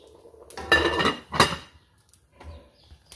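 A metal lid goes back onto a cooking pot while mung beans are being cooked. Two close, clattering clanks of metal on metal are followed by quieter rattles.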